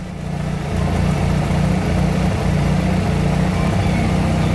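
Honda Civic engine idling with the cooling fan not running: a steady, loud, low mechanical hum and drone that holds even throughout, with no revving and no voices.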